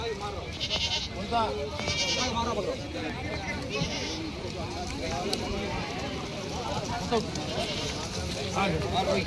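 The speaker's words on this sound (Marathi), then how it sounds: "ही पाहू शकता दावणीला बकरी मित्रांनो." Goats tethered at a goat market in Parbhani, bleating repeatedly near and far amid crowd babble and someone talking throughout.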